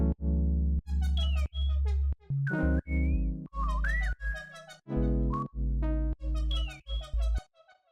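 Synthesized melodic sections built from MIDI chords play as pure, whistle-like sine tones, with short sustained chord blocks separated by brief gaps and gliding lead notes bending above them, clean and electronic.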